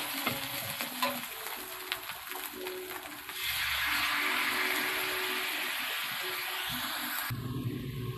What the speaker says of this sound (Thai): ทีนี้ก็ทำการผัดพริกแกง